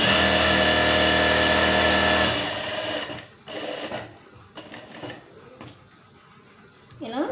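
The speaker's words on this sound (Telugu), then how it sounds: "ఇలా డబల్ స్టిచ్చింగ్ వేసుకొని" A sewing machine runs a continuous whirring stitch while double-stitching the pieces of Punjabi dress pants, then stops and leaves handling clatter and soft noises, with a voice briefly heard.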